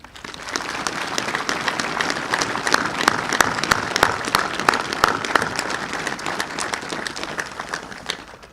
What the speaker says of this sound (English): ask everyone to applaud her service to the people of New South Wales today